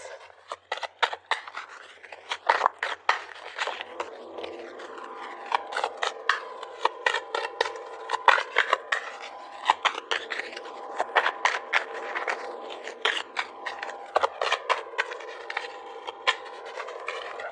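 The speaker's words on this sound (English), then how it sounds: "I need to do a really good shuffle on this one" Tarot cards being shuffled by hand, a quiet, close series of rapid riffling and sliding card scrapes in irregular bursts, repeating over and over with no talk.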